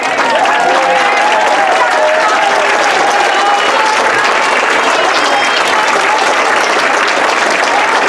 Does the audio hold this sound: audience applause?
yes